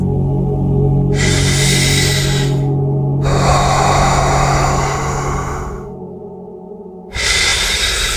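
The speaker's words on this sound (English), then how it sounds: "Place your hand on your belly and take a deep breath." Someone takes a deep belly breath from the diaphragm, drawing air in with a long, close, airy inhale and letting it out again, with pauses between breaths over a low steady hum.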